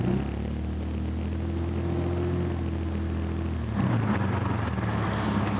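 Engine of a Jaguar XJ Series 3 runs with a loud exhaust, a steady close rumble that shifts and grows rougher partway through as it revs.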